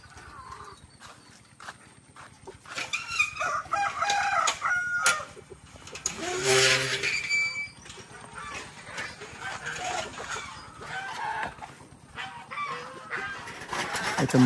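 Chickens and young chicks on a farm fill the air with scattered peeping and clucking, and a brief crowing burst rises midway. The sounds are moderately close over a busy outdoor background with occasional voices.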